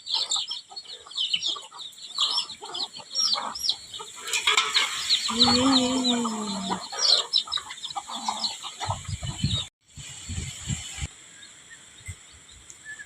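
A flock of chickens clucks and calls nearby, with scattered clucks throughout, a drawn-out squawk in the middle and some wing flapping or rustling against a busy outdoor background.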